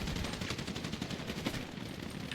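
Rapid bursts of automatic gunfire from a video game team deathmatch, dense and continuous, with rattling shots repeating throughout and a louder burst at the very end.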